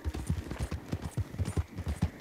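Horse hooves clip-clop in a steady, quick rhythm in Red Dead Redemption 2, a close series of dull, thudding beats, about a dozen in quick succession, with no voices over them.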